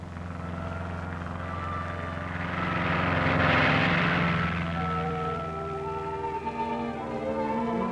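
A Saskatchewan air ambulance propeller plane drones steadily, swelling louder as it passes near and then easing off into a sustained hum.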